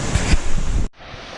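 Steady broadband rushing of a waterfall beside a mountain hiking trail, loud and close, with a wind-like roar that cuts out abruptly near the end and leaves fainter background noise.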